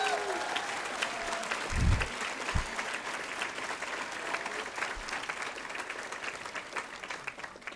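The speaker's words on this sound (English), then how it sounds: "I was going to tell you to give yourselves a big hand of applause" Dense, sustained applause from a medical school audience at a white coat ceremony rolls on throughout, with a voice speaking briefly over it and a couple of low thumps near the start.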